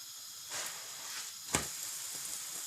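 Moroccan msemen flatbread frying in a pan, a soft steady sizzle with a brief louder crackle burst partway through, quiet and alone without talk.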